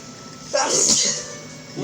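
A game character's sneeze, a single sharp burst with a bright hissing release, heard over faint background music and voices.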